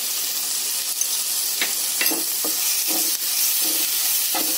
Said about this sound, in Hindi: इसको भी अच्छे से भून लेते हैं।